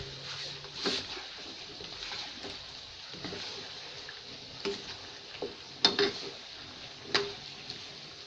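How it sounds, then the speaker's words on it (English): Potatoes and onions frying in a pan, a faint low sizzle broken by a few sharp clinks and scrapes from stirring, close by and quiet. "stir it up"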